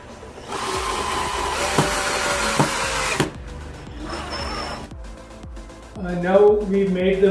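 A power drill drives screws into the top piece of a mirror door frame, with a loud sustained whine that stops and starts again, followed by a voice speaking nearby.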